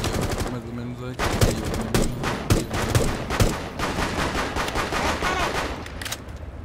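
Rapid bursts of automatic gunfire from Rainbow Six Siege, loud and close, with repeated sharp volleys and short gaps between them, mixed with faint game effects and occasional speech.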